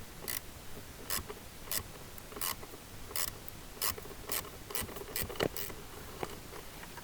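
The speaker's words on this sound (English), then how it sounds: "The other side is a bit tighter, so I'm gonna use my ratchet" A hand ratchet clicks as it works loose a tight screw holding the cabin heater blower fan of an Alfa Romeo 159, Brera or Spider, giving short, quiet, irregular bursts of ticking close by.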